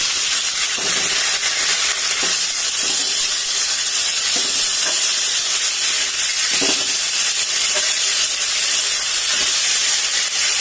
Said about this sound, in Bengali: একটু ভালো করে ভেজে নেব তো ভাজা প্রায় হয়েই গেছে